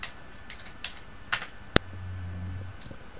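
Someone types on a computer keyboard connected to a BeagleBoard Classic, giving a handful of light, scattered key clicks close by, with one sharp louder click partway through.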